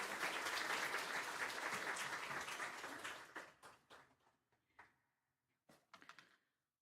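A church congregation claps in dense, fairly loud applause for about three seconds, then thins out into scattered individual claps and a few last isolated slaps before falling quiet.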